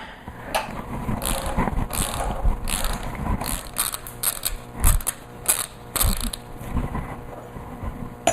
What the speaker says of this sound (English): I'm actually using a breaker bar because I have a feeling these are going to be on here pretty tight